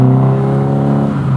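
Mazda MX-5 NB-based MK RX-5 kit car engine idling through a stainless steel silencer, a steady close low burble with strong even harmonics and no talk over it.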